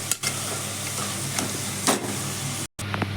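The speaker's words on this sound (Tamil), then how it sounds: "சூப்புக்கு எலும்பு கறியெல்லாம் போட்டு நல்லா எண்ணெயில் வதக்கி" Mutton bones and meat fry in oil in a pan for soup, giving a steady close hiss and sizzle with a few soft stirring scrapes.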